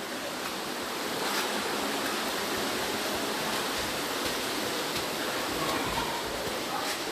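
A river rushes beneath an abandoned building near Maya King Waterfall in Belize, a steady, loud, broadband roar of flowing water that continues unbroken throughout with no voices.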